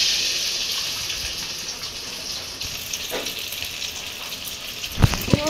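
An egg fries in hot oil in a cooking pot, a steady bright sizzling hiss throughout with a few small pops and clinks near the end.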